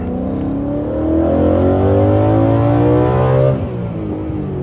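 A BMW E92 M3's engine revs loud and close as the car accelerates through a residential neighbourhood, its pitch climbing steadily, then dropping sharply near the end at a gear shift before settling into a lower drone.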